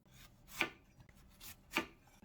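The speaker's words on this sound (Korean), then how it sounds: "무는 이렇게 돌려가면서 어슷어슷 썰어줄게요." A knife cuts slantwise through radish on a cutting board while the radish is rotated, giving two crisp, close chopping strokes spaced about a second apart over a quiet background.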